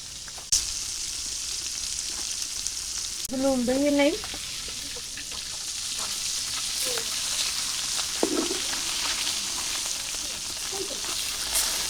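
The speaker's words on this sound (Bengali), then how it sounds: "লাল লাল করে ভেজে নিয়েছি মাছগুলো" Hilsa fish sizzles and crackles steadily in hot oil throughout, with a brief voice rising over the frying partway through.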